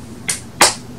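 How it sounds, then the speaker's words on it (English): Two sharp hand claps ring out alone in a sung children's song about being happy, the second louder than the first, spaced about a third of a second apart. "clap your hands"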